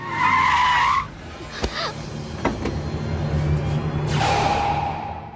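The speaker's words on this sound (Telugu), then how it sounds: "అదిగో రాజుగారి కారు వస్తుంది, ఫాలో అవ్వండి" A car arrives with its tyres skidding in a comedy movie scene, two loud tonal screeches framing a stretch of engine roar and sharp knocks, all close and without talk.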